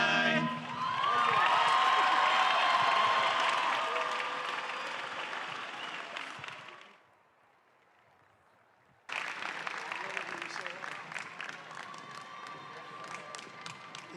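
Big commencement crowd cheering and applauding after an a cappella group sings, a loud dense roar with whoops that fades, cuts to near silence, then resumes as a second burst of clapping.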